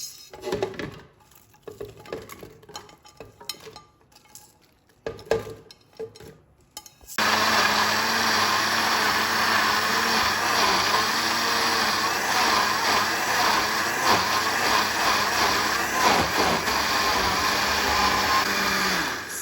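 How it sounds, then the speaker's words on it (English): A kitchen blender purees onion, pepper, ginger, garlic, bay leaf, rosemary and aniseed for Ghana jollof rice. Quiet kitchen clatter comes first, then the blender cuts in with a loud, steady, close whirring roar that runs to the end. "We proceed by blending our onion, our pepper, our ginger, our garlic, our bay leaf, our rosemary,"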